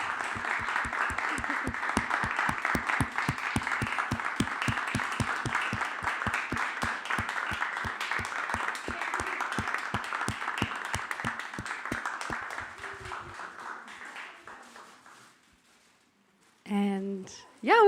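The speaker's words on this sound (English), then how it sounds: "Hanadi, Master, please come up for your big applause also." Audience applause at the close of a talk event, a dense steady burst of many hands clapping that carries on for about thirteen seconds, then thins and fades out before a voice begins speaking.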